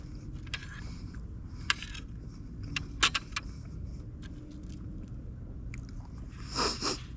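Someone takes a bite of food while sitting in a truck bed tent, giving a few faint crunching and chewing sounds with scattered light clinks against a quiet outdoor background.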